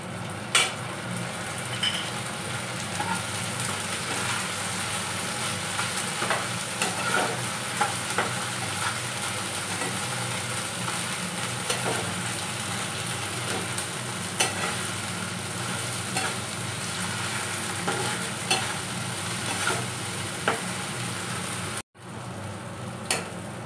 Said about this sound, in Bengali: এবার একটু ভালো করে ভেজে নিচ্ছি।